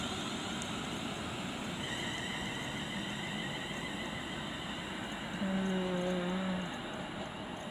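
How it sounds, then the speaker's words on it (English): A Lufthansa airliner departing near Marston Green, a broad continuous jet roar with faint whining tones and a low hum that rises slightly later, distant and steady. "as a Lufthansa flight departs to either Frankfurt or Munich"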